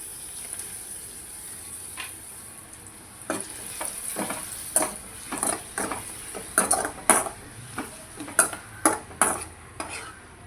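Spicy pappadam fries in hot oil with a steady sizzle, while a utensil clinks and scrapes in the pan in quickening, irregular bursts.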